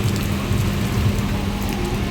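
A dense, steady hiss of heavy rain falls continuously in Barnala, fairly loud and close, with no talking.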